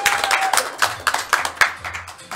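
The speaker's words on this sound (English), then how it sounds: "Give them a round of applause" Audience applause at a live game show, a short burst of scattered hand claps with uneven rhythm, moderately close and loud, carrying on for a couple of seconds without talk.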